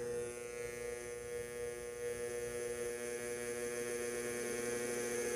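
An industrial DC motor runs on a DC control board as a potentiometer is turned up, giving a steady electrical hum with stacked tonal whine, quiet and unbroken, with no speech.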